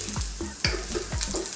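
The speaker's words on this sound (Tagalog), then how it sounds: "Okay po, mainit na yung ating mantika. Lalagyan na natin yung ating ginger." Chopped ginger hits hot cooking oil for a Filipino sweet and sour shrimp, sizzling and crackling in a pan with several quick stirring scrapes in steady rhythm, close and fairly loud.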